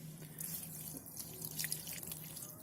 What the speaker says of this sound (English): So the last thing that we're going to do is just water this